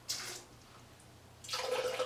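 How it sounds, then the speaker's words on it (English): Cold water is poured into a blender for an acai bowl, two short splashing gushes at the start and end, separated by a quiet pause with low background hum. "I actually add about 1/4 cup of water, cold water, to the blender"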